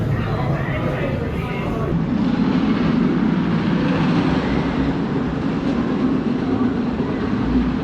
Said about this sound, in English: Always hear the train.